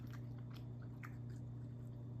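Reheated McDonald's chicken nuggets, air-fried crispy, are bitten and chewed with faint, close crunches over a steady low hum.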